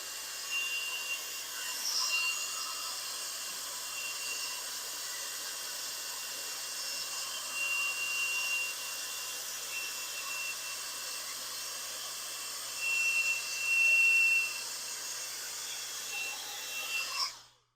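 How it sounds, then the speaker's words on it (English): A Gooloo cordless air duster blows dust off a computer keyboard with a continuous, fairly quiet whirring hiss that swells briefly near the end. "Blow all that dust off of there."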